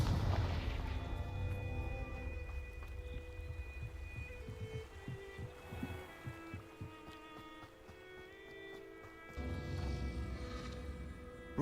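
Confringo explosive spell blasts in Hogwarts Legacy give deep booms and rumbling impacts among game effects and music, loud at the start and again near the end.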